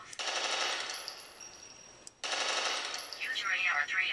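Sustained bursts of AR-3 assault rifle fire in the sci-fi shooter Interstellar Marines, two long loud volleys split by a brief pause near two seconds, ending with a warbling electronic tone.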